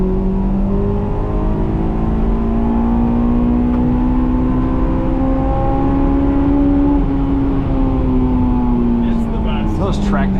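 Engine of a 2001 Honda S2000 AP1 revving high into VTEC on a winter drive: a loud, sustained, smooth howl whose pitch climbs steadily and holds near the top for several seconds.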